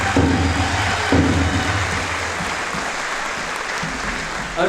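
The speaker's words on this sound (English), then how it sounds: "I'd like to ask for a big, warm round of applause for LaDonna Harris at this time" Warm audience applause for LaDonna Harris at a live event, a dense, steady clapping from a crowd that holds strong throughout, with a few voices faintly underneath early on.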